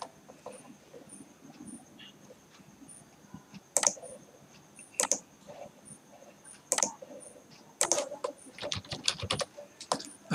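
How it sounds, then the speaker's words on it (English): Keys on a computer keyboard tapped in short irregular bursts, with quiet soft clicks building to denser typing near the end, heard alone against a faint room background. "They are typing some answers."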